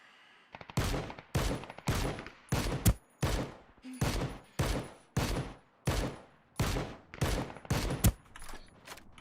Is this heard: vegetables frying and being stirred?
no